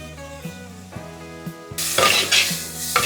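A utensil scrapes a frying pan in regular strokes about twice a second, mixing chicken with crushed chilli while it sizzles loudly and grows stronger partway through.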